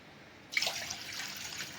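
Water poured from a glass into a steel pot for two packets of Maggi noodles, a steady close splashing stream that starts abruptly after a short silence and runs on evenly.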